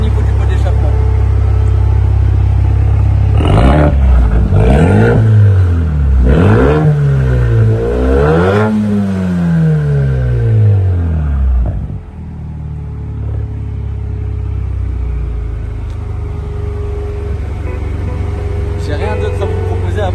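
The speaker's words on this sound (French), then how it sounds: "écoute bien le son. Mets-toi au niveau du pot d'échappement" Exhaust of a 2021 Mercedes-AMG A35 at standstill, revved in several rising and falling bursts close to the tailpipe, then settling into a steady idle rumble.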